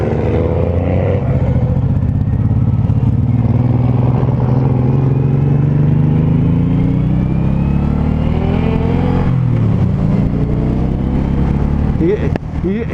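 A 2019 Suzuki M109R cruiser rumbles loudly up close, its engine pitch rising and falling through uneven, jumpy throttle changes in second gear, with a voice talking over the ride.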